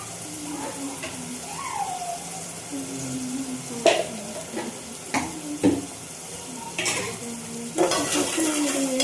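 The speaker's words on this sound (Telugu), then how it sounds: "ఉల్లిపాయలు మంచిగా వేగించుకోవాలి." Onions fry and sizzle in a pan with salt and turmeric while a spoon stirs and scrapes in repeated strokes, metal clinks rising over a steady close hiss.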